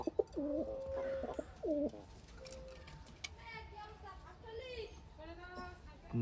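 Several high-flying and homer pigeons kept in a house loft coo in soft repeated bursts, close by, while someone talks over and between the calls.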